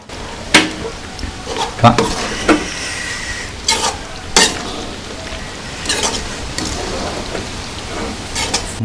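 Prawn thokku with salt and coriander is stirred in a pan, with a constant sizzle and scattered scraping strokes and clinks of the spoon against the metal, close by.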